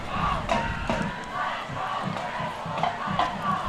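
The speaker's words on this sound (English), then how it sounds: "San Angelo crowd making noise." A San Angelo high school football crowd roars on third down, a sustained wash of stadium cheering and shouting from many voices, moderately loud and continuous.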